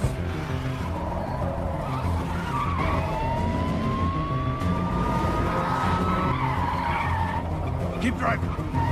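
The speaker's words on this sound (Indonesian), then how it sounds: "Setelah itu mengambil alih mobil untuk bisa lolos dari penjagaan para polisi. Aksi kejar-kejaran pun kembali terjadi." A car skids with long, rising tire squeals during a police chase in an action film, loud and close over a dense rumble of engine and action-scene noise, with a second squeal following near the end.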